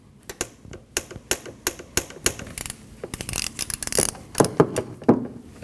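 Ratchet tightening an ignition coil bolt on a Nissan NV2500 engine, a close run of sharp, irregular clicking strokes that grows slightly louder and denser toward the end.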